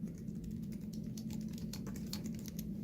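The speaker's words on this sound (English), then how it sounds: "You can type using the keypad" Tapping on a tablet's on-screen keypad, a quick irregular run of soft light taps over a low steady background hum, faint and without voices.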